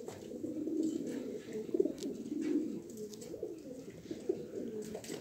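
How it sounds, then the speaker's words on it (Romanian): A female racing pigeon in a loft coos softly with low, rolling, repeated calls, close and steady, without any talk over it. "O porumbiță foarte frumoasă."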